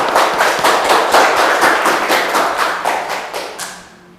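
Classroom applause for classmates after a student presentation: a sustained burst of many hands clapping in fast, dense rhythm, loud and close, tapering off toward the end with no talk.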